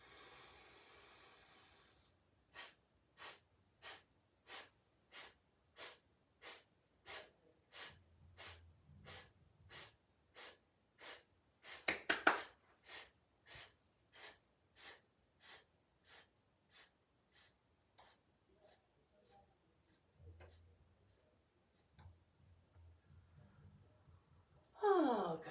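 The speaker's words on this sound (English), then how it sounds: "We are not going to breathe in between our staccato hisses." A singer doing a vocal warm-up lets out a long series of short, evenly spaced staccato hisses on a single breath, about two per second, with a quieter inhale and breathy sounds at the end.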